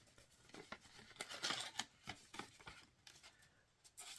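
Holiday card envelope being opened, faint close paper rustling and crisp tearing scrapes in a rapid irregular series.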